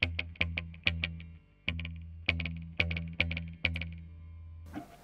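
Electric guitar notes and chords played in short bursts through a tape delay, each followed by a quick slapback echo that doubles the attack, with a brief noisy tail at the end.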